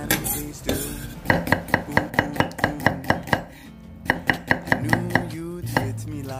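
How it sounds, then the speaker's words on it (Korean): A knife julienning chives, onion, carrot and chilli on a board makes a quick, even run of sharp chopping knocks, then a short pause and a second burst of strokes, close and clear. "부추, 양파, 당근, 고추를 채 썰어서 준비해주세요."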